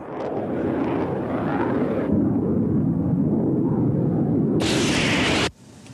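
A roaring military jet takes off from southern Argentina armed with Exocet missiles, a loud, sustained broadband rumble and whoosh that swells, then cuts off abruptly.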